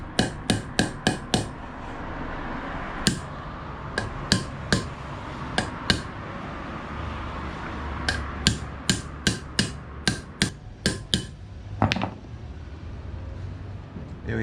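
A hammer drives a front wheel bearing race into the hub of a Toyota Land Cruiser 70 series, a run of sharp metallic blows, some quick and clustered, others spaced, loud and close over a faint background.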